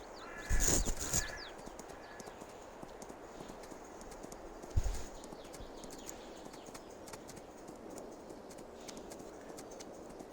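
Horse hooves clip-clop at a steady walking rhythm while the horse is ridden across a farm in Farming Simulator 22, with soft ambient birds and two brief louder sounds near the start and middle.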